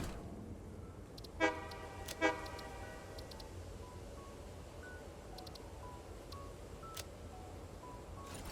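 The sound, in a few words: train horn honking in the video game Satisfactory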